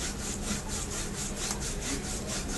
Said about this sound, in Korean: 톱질하는 소리 같아요